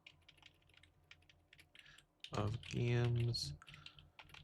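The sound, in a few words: computer keyboard typing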